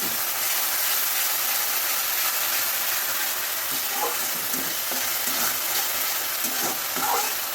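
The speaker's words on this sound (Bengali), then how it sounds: "পেঁয়াজ দিলাম সুন্দর করে নেড়ে নিচ্ছি ভালো করে" A large onion sizzles steadily in hot oil in a pan while being stirred, a constant close hiss with occasional soft scraping, for a potato and small-fish curry.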